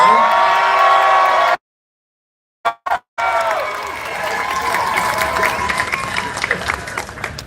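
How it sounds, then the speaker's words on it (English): A big, boisterous crowd on Hollywood's Walk of Fame cheers, whoops and applauds loudly, the roar briefly dropping out before swelling back into sustained clapping and shouts. "this is a big, boisterous crowd"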